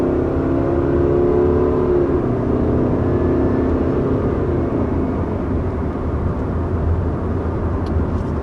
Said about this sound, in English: Now with that acceleration, I want to take the time to talk about the continuously variable transmission